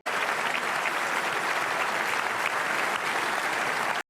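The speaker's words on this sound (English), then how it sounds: "Give yourself a round of applause." A round of applause, dense and even clapping that holds at a constant loud level throughout with no voices over it.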